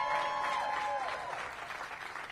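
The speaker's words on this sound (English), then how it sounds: "Give her a big round of applause." A school crowd at a high school ribbon-cutting ceremony applauds their principal. Full, steady clapping starts at once and eases slightly toward the end, with a faint tonal whine in the first second.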